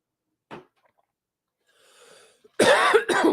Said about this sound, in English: I just took a weird swallow followed by a cough.